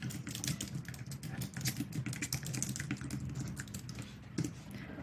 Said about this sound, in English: you're going to type in your URLs for those